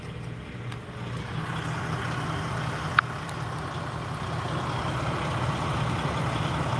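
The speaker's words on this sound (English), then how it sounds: "Hell, it ain't a 900, but it is a Kenworth." A Kenworth grain hauler truck rumbles past at a steady distance, its low engine drone holding evenly throughout, with a brief sharp click partway through.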